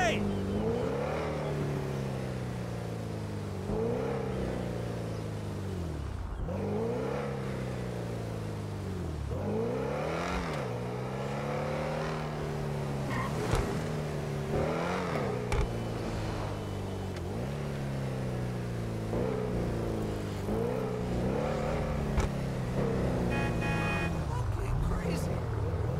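A car in GTA V drives and accelerates, its engine tone rising and falling in repeated sweeping revs throughout, steady and close, with someone speaking over it at times.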